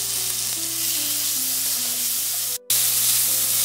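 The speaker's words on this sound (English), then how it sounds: "The raw flavor of ginger and garlic paste is now gone, so I will add the chopped tomatoes." Chopped tomatoes hit hot oil with ginger-garlic paste in a pan for an omelette curry, a loud, dense, steady sizzle heard up close, cut by one brief gap of silence before resuming.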